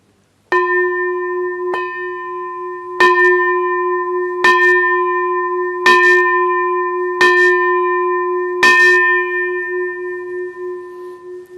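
A large bell rings with slow, steady strikes about every one and a half seconds, each loud, clear toll ringing on and overlapping the next, heard alone.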